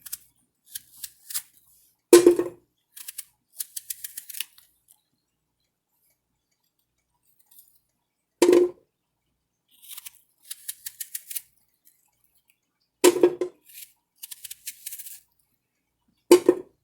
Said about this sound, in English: I'm going to cut the apple off the core